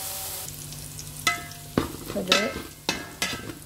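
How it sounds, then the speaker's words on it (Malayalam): Ginger, garlic and green chilli sizzle in hot oil after mustard seeds for a prawn pickle, a soft steady fry broken by several sharp spoon scrapes and stirring clinks, with one brief spoken word. "നമുക്ക് ഇഞ്ചിയും വെളുത്തുള്ളിയും പച്ചമുളകും കൂടെ ചേർക്കാം. ഇതൊന്ന് അതിൻ്റെ പച്ചച്ചോയൊക്കെ മാറിയിട്ട് ഒന്ന് മൂപ്പിച്ചെടുക്കണം"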